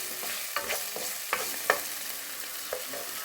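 Onions fry in a pan while being stirred, a close, soft sizzle broken by occasional spoon clinks and scrapes, with no talking.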